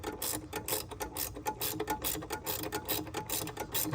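A ratcheting flare nut wrench clicks rapidly and steadily on a brake line fitting during an Acura NSX ABS upgrade, a close, continuous run of ratchet ticks with no talking.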